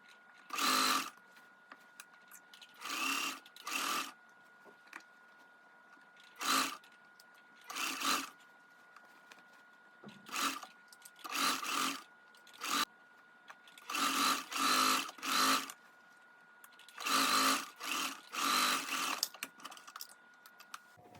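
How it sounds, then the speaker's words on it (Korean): Sewing machine stitching a slip dress along a pressed seam line, running in short whirring bursts of one to two seconds separated by quiet pauses, close and clear with no voices. "핀을 모두 꽂은 후에는 다림질해 놨던 재봉선을 따라서 재봉을 해줍니다."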